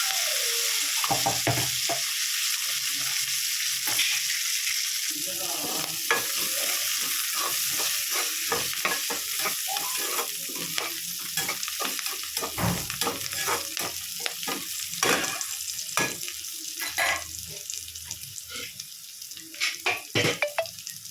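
Curry leaves and green chilies frying in hot oil in a pan for fried rice, producing a loud continuous hiss with frequent sharp stirring scrapes and crackles close by, with no talking.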